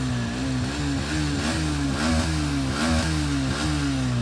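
A used motorcycle idles after a self-start, with a steady low engine thrum and rhythmic revving pulses that repeat about every half second, loud and close with no talk.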